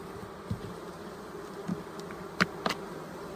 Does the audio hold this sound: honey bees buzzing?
yes